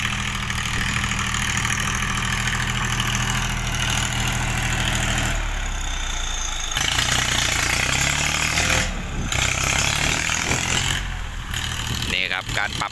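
A dump truck's diesel engine runs at a land-filling site, a steady low rumble close by that shifts in tone partway through as the engine revs and settles.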